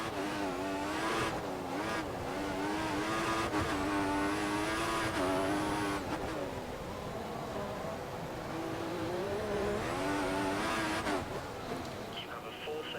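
Formula One race car engine at full power in the F1 2014 game, a loud continuous high-pitched whine climbing and dropping through gear changes, with brief tire squeal, heard alongside talk.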